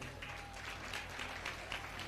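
Faint, steady clapping from a crowd at a live religious gathering, heard as a soft, distant wash of hands across two seconds.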